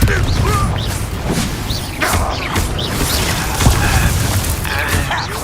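Explosive booms and crashes from the Confringo spell in the Hogwarts Legacy video game burst amid busy battle noise, with whooshes and thuds layered over a dense rumble and voices heard faintly.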